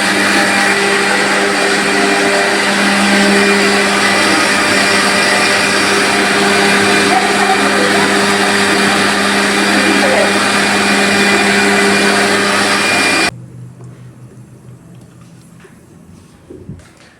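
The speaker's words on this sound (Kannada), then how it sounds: "ಈ ಕಡೆ ನಮ್ಮಮ್ಮ ಅವರು ನಾಳೆ ದೋಸೆಗೆ ಅಕ್ಕಿನ ರುಬ್ಕೊತಾ ಇದ್ದಾರೆ" A wet grinder churns soaked rice into dosa batter in a home kitchen, a loud steady whirring hum that runs unbroken, then cuts off abruptly near the end, leaving faint room noise.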